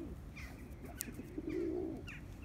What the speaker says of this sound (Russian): как всегда, я вам птичек показываю